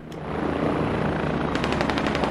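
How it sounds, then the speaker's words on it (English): Helicopter in the military video game Squad, its rotor thump rising to a loud steady drone, then a rapid burst of gunfire rattling over it in the final second. "So the helicopter is actually trying to shoot this infantry here because the helicopter actually sees them."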